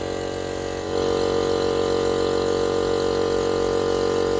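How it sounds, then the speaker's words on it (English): An air compressor in cold weather starts up about one second in, then runs as a loud steady motor drone with a strong hum, continuous and even to the end, with no talking. "compressed air machine, if you want to call it that. We just call it a compressor because that's its name"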